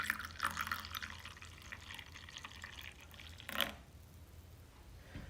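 Freshly brewed coffee poured from a vessel into a cup, a steady soft liquid stream with a brief louder splash near the end, close and alone.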